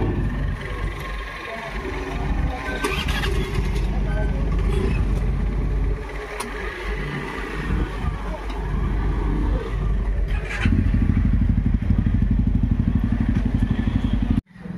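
A motorbike engine idles and revs nearby on the road to a ferry crossing for Majuli, Assam, its steady rumble growing louder toward the end amid traffic noise and background voices.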